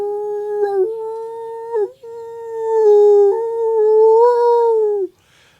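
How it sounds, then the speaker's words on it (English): A dachshund howls loudly and up close, one long wavering sung howl broken into a few sustained pitch steps over about five seconds, then cutting off to quiet. "We had us a weenie dog named Gretchen who loved to sing real loud"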